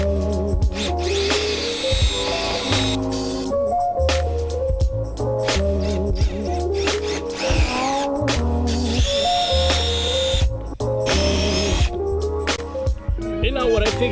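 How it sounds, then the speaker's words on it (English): A power drill drives self-tapping screws into a Terminator Cobra front bumper on a New Edge Mustang GT, whirring loudly and continuously up close with repeated spin-ups and stops, under voices and background noise. "drill them into place."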